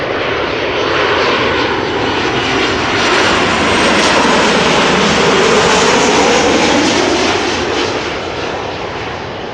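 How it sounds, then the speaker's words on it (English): A KLM Boeing 737-800 airliner arriving from Rome roars steadily overhead at close range, a loud broadband jet rumble that swells slightly toward the middle and holds for the full length without any voices. "737-800 arriving from Rome,"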